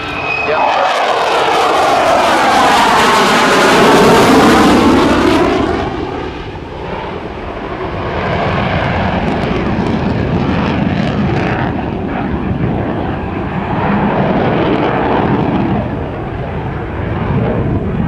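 An F/A-18C Hornet fighter jet flying a slow photo pass at an airshow, a loud engine roar that swells and sweeps past, then a sustained rumble as the jet moves on.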